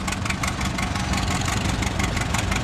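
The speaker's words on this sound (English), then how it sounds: "there's that tractor somebody's going to win too" A tractor engine idles at a community fair, a steady, loud, close rumble with a fast, even mechanical pulse and no speech over it.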